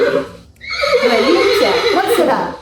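A horse neighing in a children's animal-sounds class, a loud, drawn-out whinny with a wavering, shaking pitch that rises after a brief pause and carries on for about two seconds.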